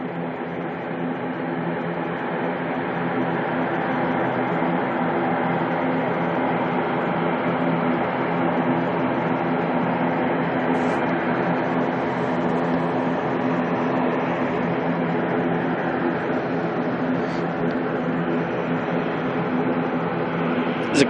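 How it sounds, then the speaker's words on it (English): An ATR turboprop airliner taxiing out at Auckland Airport, a steady broad engine drone heard from a distance that holds evenly for about twenty seconds. "Alright, that ATR's heading on out."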